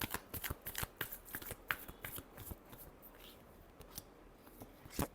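Tarot cards being shuffled by hand nearby, a quick irregular series of soft riffling slaps and snaps, fairly faint, with no talk.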